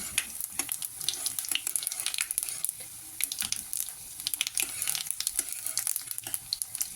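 Cardamom, cinnamon, cloves, cumin, nigella, fennel and three dried red chillies fry in hot oil in a pan, giving a continuous crackling sizzle with sharp pops, close and fairly loud, with no talk.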